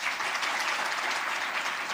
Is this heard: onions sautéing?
no